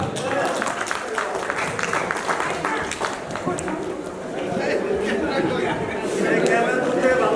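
Loud applause from a crowd for a prize winner at an office picnic in a fun park, with steady clapping and chatter under a voice on a microphone.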